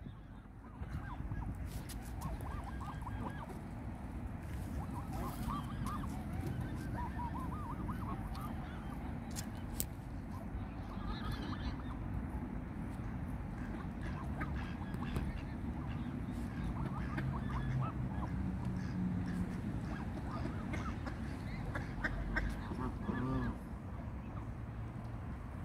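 Geese honk repeatedly on a canal in Birmingham, their calls scattered over a steady, dense background of outdoor noise and water, moderately near and continuous throughout.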